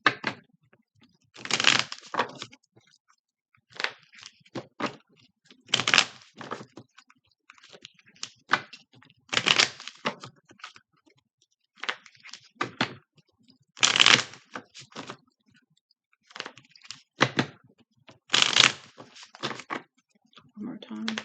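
A Wishcraft Oracle deck shuffled in short separate bursts of crisp card flutter, close and fairly quiet, each spell lasting about a second with near-silent gaps between them.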